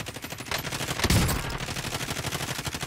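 Automatic gunfire in Call of Duty Warzone rattles in a fast, steady stream of close, loud shots, with a heavier crack or blast partway through.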